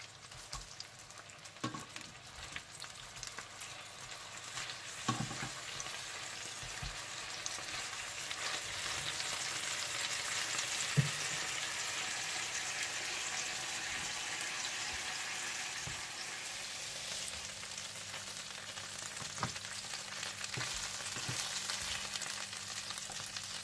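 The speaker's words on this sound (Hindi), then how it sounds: "एक साइड पकने के बाद आप इनकी साइड चेंज कर दीजिएगा और इसी तरह से आप सारे पैटीज फ्राई कर लीजिएगा।" Beef burger patties fry steadily in a pan, a continuous broadband sizzle with occasional louder pops and crackles, close and even in level with no talking.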